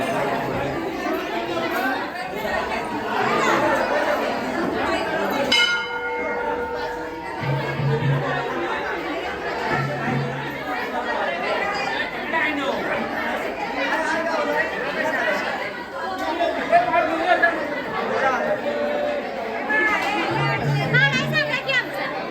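A dense crowd murmurs and chatters at a busy palkhi procession beside an old temple, with overlapping voices near and far, occasional children's shouts and brief tonal bursts rising above the steady hubbub.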